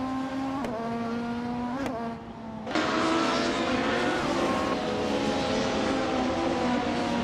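A 1996 Opel Calibra DTM touring car in a racing video game, its engine holding a steady loud tone with sharp rising shifts and a brief dip before surging again under continuous race noise.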